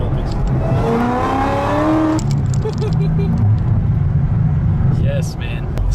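Corvette ZR1 with an 800 hp engine and exhaust valves open revs up strongly with a rising, loud tone for about two seconds, then settles to a lower rumble while people talk over it.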